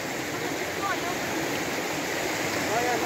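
Mountain stream water at Jiri, Nepal, a steady loud broadband rush of flowing water, close and unbroken throughout, with no clear speech over it.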